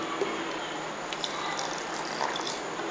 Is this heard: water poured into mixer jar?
yes